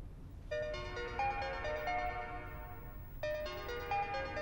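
A phone ringtone plays a melodic electronic tune that loops twice, bright and fairly loud with a short pause between the repeats.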